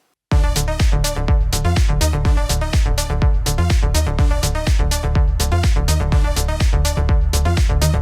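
Two synths play together, one an octave above the other, in a dense, loud, steady pattern of rapid pulsing notes over a heavy low end that carries on without pause or speech.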